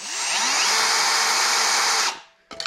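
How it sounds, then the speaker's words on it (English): A drill bit bores through a steel reinforcement plate on a Datsun 240Z floor pan, a loud steady high whine lasting about two seconds before cutting off, followed by a brief clatter. "I'm gonna take the same drill bit I used to make this hole"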